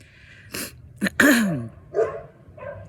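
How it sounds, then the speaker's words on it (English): Dogs bark in a few short, sharp bursts at close to moderate distance, separated by brief pauses, with no talking over them. "dang dogs"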